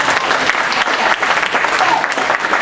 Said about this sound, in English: Give her a round of applause for being great.